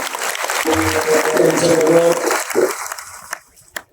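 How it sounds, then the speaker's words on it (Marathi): A crowd claps loudly for Sharad Pawar, former agriculture minister of India, at a gathering of varkaris in Siddhatek. The dense applause runs for about three seconds with voices over it, then dies away to near silence. "आदरणीय शरदचंद्र पवार साहेब आपल्यावर भेट द्यायला आले सर्वांनी जोरदार टाळ्या वाजायचे"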